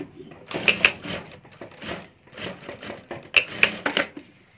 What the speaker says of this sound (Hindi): यहाँ हमें सिलाई कर देनी है